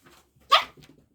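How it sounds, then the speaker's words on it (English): A pet dog gives a single short, sharp bark close to the microphone, with faint small sounds on either side. "Sorry, that was just my dog."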